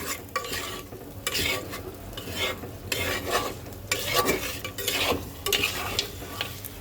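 Chicken biryani masala with salt is stirred and fried in a pot, with repeated rhythmic scraping strokes roughly every second over a steady sizzle, heard close and with no talking.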